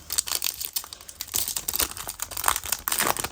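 A foil booster pack of trading cards is torn open and crinkled by hand, giving a close, continuous run of sharp crackles and rustles with no talking.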